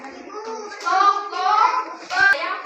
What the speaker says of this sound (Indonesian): beri tepuk semangat